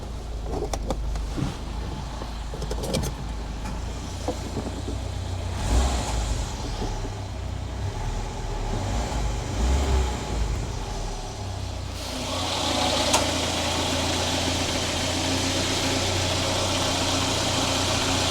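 A Citroen BX 16 TRS engine idling steadily up close while the hydropneumatic suspension raises the ride height, the running note rising and thickening slightly partway through.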